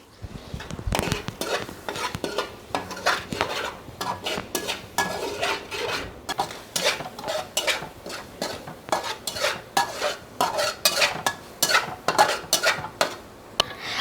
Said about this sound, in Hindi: अब हम इसमें मसाला जार डाल देंगे। अब हम इसे मिक्स कर लेंगे।